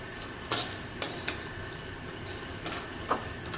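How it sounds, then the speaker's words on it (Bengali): A spoon stirs vermicelli pulao with sugar in a pan, giving a few light, scattered clinks and scrapes over a soft background hiss. "চিনি দিয়েও হালকা হাতে নাড়বো"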